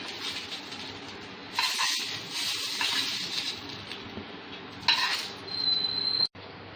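Roasted green chillies being lifted one by one out of a hot pan with the gas turned off, giving faint sizzling hiss and a few soft scraping and clinking touches of utensil on metal, ending in a sharp click.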